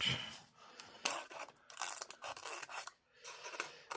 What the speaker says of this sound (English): you just take your liner and you start snipping it